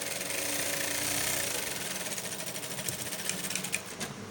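A sewing machine runs continuously at a steady pace, stitching fabric for a senator outfit with a rapid, even mechanical hum and needle chatter, close up with no talking.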